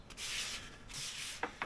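A diamond willow walking stick is sanded by hand, with two long close rasping strokes followed by two quick short scrapes, soft and with no talking.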